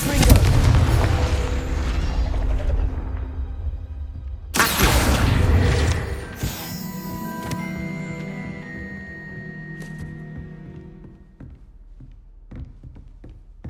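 A Confringo fire spell in Hogwarts Legacy bursts into a loud, sharp explosion partway through, followed by a ringing, crackling decay. A deep rumble of other game sound comes before it.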